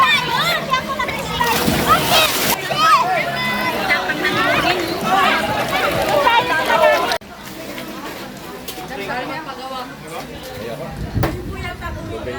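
Water splashes loudly at a pool slide during a night swim at a resort, with repeated churning bursts while children and adults chatter and shout close by throughout.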